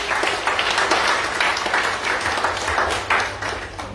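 A church crusade crowd claps together in sustained, dense applause, loud and close, filling the hall with steady clatter that swells slightly near the end.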